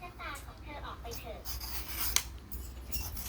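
A kitchen knife slices and scrapes through winter melon being prepared for clear soup, making a run of crisp cutting and rasping strokes at close range with a faint background hum.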